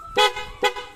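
Two short, loud Piaa motorcycle horn honks from a Honda RS150, close by, with a brief gap between them.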